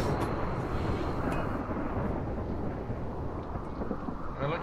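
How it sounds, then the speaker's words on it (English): A thunderstorm in RimWorld rumbles, heavy and constant, with broad rain and thunder noise filling the whole stretch and no talking. "Looks like we'll be having a bad storm tonight,"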